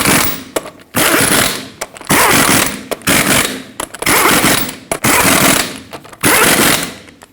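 Impact wrench on a Ford F-350 front wheel during hub bearing replacement, running down the lug nuts in a cross pattern: six loud, close bursts of rattling hammering, each about a second long, separated by short pauses.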